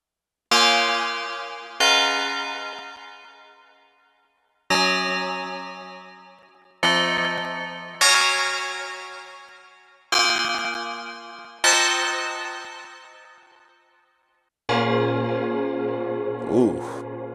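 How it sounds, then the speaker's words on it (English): Bell patch from the Cherry Audio Sines VST synth plugin: a series of eight struck bell notes, each ringing out with a long decay, followed by a sustained wavering bell chord. "let's go to bells, because, you know, I'm a bell guy"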